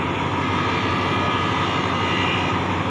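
Thai freight express train number 633 passes close by, a loud, continuous heavy rumble and roar that holds steady throughout with no voices.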